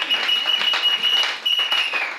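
A church congregation applauds and cheers in praise, a short, loud burst of clapping with voices raised in a sustained shout.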